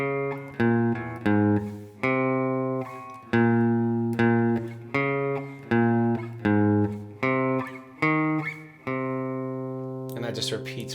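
Slow guitar riff from a song, played palm-muted with the hand resting on the bridge for a punchy, damped tone; short chopped chords repeat in a steady pattern, close and clear, with no talking.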